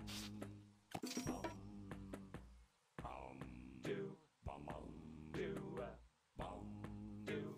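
The Toe Jammer monster from My Singing Monsters sings in repeated short bursts, a warbling cartoon voice over a bouncy looping backing with clinking accents and brief gaps between phrases.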